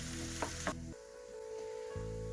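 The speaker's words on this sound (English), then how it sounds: "Cook these onions for about 2 minutes on medium flame." Onions fry in a pan over medium flame with a soft, steady sizzle, broken by a few brief clinks and a low hum that drops out and returns.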